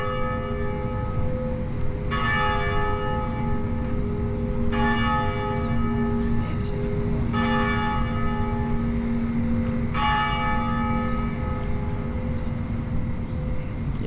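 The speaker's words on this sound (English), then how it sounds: "they're ringing the heck out of that bell." A church bell in downtown Birmingham, Alabama rings out four times at steady intervals of about two and a half seconds, moderately distant over a constant low street and traffic rumble.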